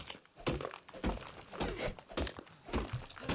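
Flint being mined from a boulder in the ARK survival game: a run of dull, crunching thunks struck at an irregular, steady pace, close and moderately loud with no talk.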